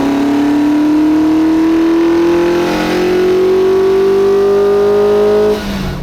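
A 1979 Ferrari 308 GTS V8 revs up loud and close, its pitch climbing steadily for about five seconds before the throttle drops off, with no talking over it.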